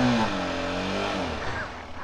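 A motorcycle engine revs loudly and close in the Lolab Valley, its pitch sliding downward and its roar easing gradually into a steady hum.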